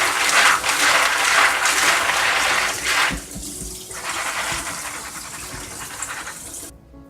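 Running water splashing and pattering through a strainer while washing tiger nuts, steady and close, easing briefly midway before resuming, then stopping abruptly at the end.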